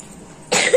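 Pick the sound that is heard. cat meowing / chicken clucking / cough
cough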